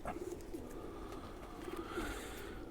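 Khaki Chua pigeons coo softly and repeatedly at close range, their low rolling calls carrying over a steady background hum.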